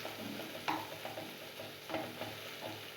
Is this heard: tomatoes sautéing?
yes